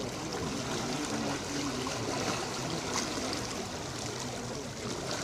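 Floodwater in Krishna Lanka rushes in a steady, dense roar that stays even and fairly close throughout, with no voices.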